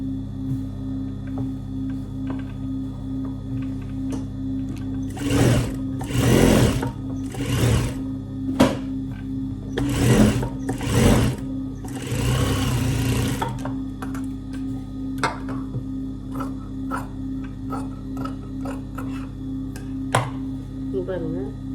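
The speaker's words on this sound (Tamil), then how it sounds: "லைனிங் பீஸை தான் அது மேலே கவுத்து இப்படி மூடி நம்ம ஒரு தையல் போட போகிறோம்" Sewing machine stitching a lining piece in several short bursts of running stitches with pauses between, close and fairly loud over a steady low hum, with no talk during the stitching.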